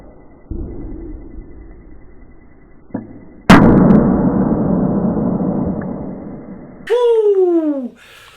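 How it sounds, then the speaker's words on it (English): A 440 ml can of London Beer Factory Big Milk Stout, a vanilla and cacao nib imperial stout, cracks open with a loud, sharp snap and a long fizzing hiss, followed by a voice exclaiming. "Got one of those big cracking noisy cans."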